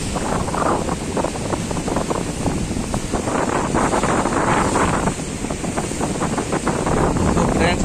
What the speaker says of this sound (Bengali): একদম জল একদম উত্তাল হয়ে আছে একদম। তো প্রচুর জল উঠছে